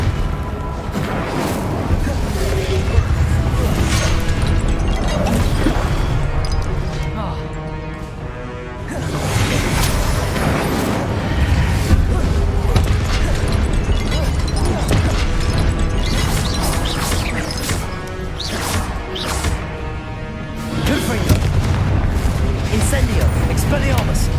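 Spell explosions in the Hogwarts Legacy video game: repeated loud booming blasts and crashing impacts over a dense, continuous game soundtrack, with speech-like voices mixed in throughout.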